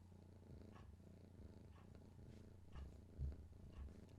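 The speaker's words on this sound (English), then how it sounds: "Do you hear purring?" A pet cat snuggled on a lap purrs softly in a steady, low rumbling rhythm, faint and close with no one talking.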